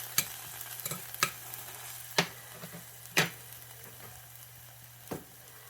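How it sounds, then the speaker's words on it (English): Green onion whites sizzle quietly in hot oil in a pan, a soft steady frying hiss broken by a few sharp clicks and taps of a utensil. "I'm going to put the whites in there to start them sizzling up a bit."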